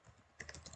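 A handful of faint, quick keystrokes on a computer keyboard, entering a file path on a PC, five or six soft clicks close together after a brief quiet lead-in, with no speech.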